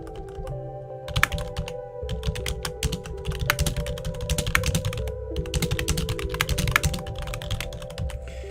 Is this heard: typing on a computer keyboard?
yes